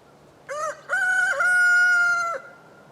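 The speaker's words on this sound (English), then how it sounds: "That's a fine sounding rooster." A backyard rooster crows nearby from under a camellia bush, giving a short opening note, a brief pause, then a long sustained cock-a-doodle-doo that holds steady before cutting off, loud and clear against quiet surroundings.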